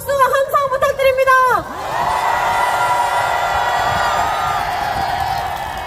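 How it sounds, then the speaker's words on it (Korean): Crowd at a large political rally in Yeouido calling for a president's impeachment roars and cheers in a sustained, dense wash after a loud voice ends, steady and fairly loud throughout. "국회 안에서 애써주신 모든 분들께 다시 한번 큰 박수와 함성 부탁드립니다"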